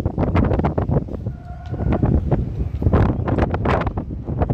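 Strong wind on Doha Corniche in Qatar buffets the microphone in loud, gusty rumbles that rise and fall throughout.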